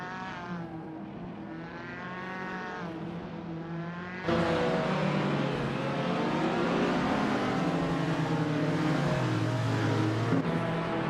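Group 3 classic race cars lapping Eastern Creek circuit, an engine note climbing and shifting through gears, then a louder, closer surge of roaring engines as more cars pass, sustained with no talk.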